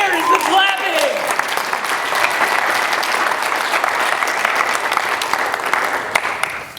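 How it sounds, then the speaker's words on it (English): An audience claps at a talk in a hall, steady dense applause filling the room from start to finish, loud and sustained, with a speaker's voice briefly over the opening. "Clapping! Where is the clapping?"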